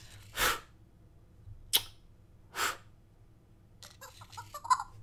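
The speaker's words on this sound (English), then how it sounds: "if you blow kisses, it will make adorable smooching sounds, or it will sneeze." A Fingerlings monkey toy gives three short, sharp sneezes spaced about a second apart in a quiet room, followed by a faint burst of small chirpy toy sounds.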